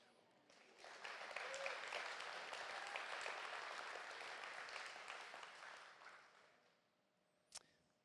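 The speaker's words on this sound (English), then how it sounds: "That deserved a, a clap." Audience applause from a crowd at a faith talk, a steady burst of clapping lasting about five seconds before fading out, moderately loud and unaccompanied by speech.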